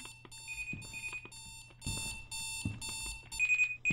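A repeating electronic alarm from a video game, bursts of bright beeping tones pulsing in a steady pattern, fairly loud with no talking.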